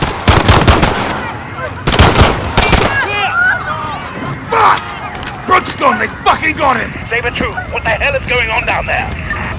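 Gunfire in a London street scene in Call of Duty: Modern Warfare: loud, rapid bursts of shots up close, then scattered shots under frantic shouting and screaming voices.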